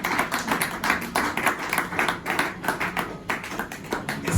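A church congregation applauds after a sermon, with steady rhythmic clapping that goes on throughout and sounds close and lively, with no voices over it.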